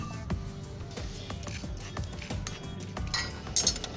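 Coriander seeds being dry-roasted in a pan for chakli flour, giving a steady run of faint, close clinks and light metallic ticks as the seeds are stirred and tossed, with no speech.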